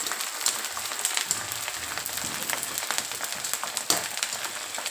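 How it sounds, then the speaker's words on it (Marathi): Edible gum (dink) frying in hot oil, with a dense, continuous bubbling sizzle full of tiny crackles and occasional louder pops, close and steady, with no voices. "एकदम मस्त डिंक तळलेला आहे"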